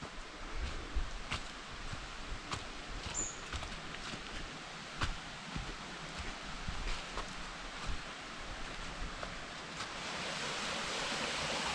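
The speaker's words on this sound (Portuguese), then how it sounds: "Tô escutando o barulhinho da água" A small waterfall with low flow on a forest trail in a nature park in Monte Verde, Minas Gerais, giving a steady, soft rushing hiss that continues unbroken and fairly faint throughout, with no voices.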